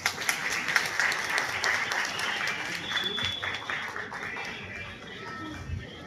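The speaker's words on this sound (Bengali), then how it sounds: "হাততালি হবে প্লিজ।" An audience claps together in a burst of applause that starts loud and gradually thins out, with some voices mixed in.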